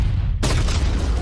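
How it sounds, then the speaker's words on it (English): A big explosion in a video game trailer lands as one sudden, loud, broadband boom partway through after a quieter rumbling lead-in, with a heavy low-end tail that lingers to the end. "Did I mention the big explosion?"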